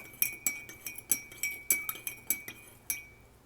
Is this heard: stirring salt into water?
yes